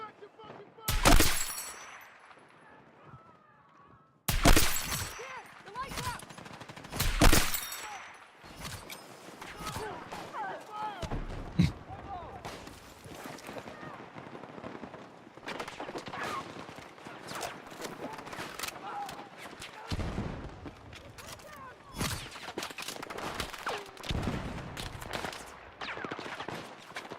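Video game gunfire comes in bursts of rapid automatic shots and sharp single cracks, loud and close, with quieter scattered shooting between them and a player's voice talking over parts of it.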